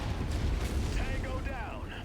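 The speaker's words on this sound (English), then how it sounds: "Incoming missile." Missile explosion in the MechWarrior 5 game: a sustained low, rumbling blast that stays loud throughout, with brief synthetic warbling tones layered over it in the second half.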